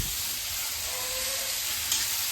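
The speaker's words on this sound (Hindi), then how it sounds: "मैं जब सब्जी छौंक रही हूँ।" Vegetables sizzle steadily in hot oil while being tempered with cumin in a home kitchen, a constant close hiss with a faint tonal hum and one brief clink near the end.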